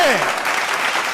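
Audience in a church parish hall breaking into applause, loud dense clapping from a crowd nearby, with a brief voice at the start.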